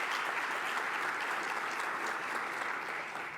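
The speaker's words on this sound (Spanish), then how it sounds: "Un aplauso, por favor." Steady applause from a conference audience welcoming a panel speaker at a Latin American forum on multisector collaboration and financing, a dense even wash of clapping that holds at a constant level throughout.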